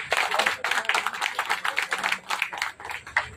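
Applause at a political meeting in Paradip, where Congress and BJP workers join the BJD, sounds as a dense run of crowd clapping that holds steady for a few seconds at moderate loudness, with no voices over it.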